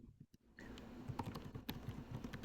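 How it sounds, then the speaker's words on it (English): Quick, uneven clicks of fingers typing on a computer keyboard, close and fairly quiet, in short bursts after a brief near-silent start. "I'm typing in the question."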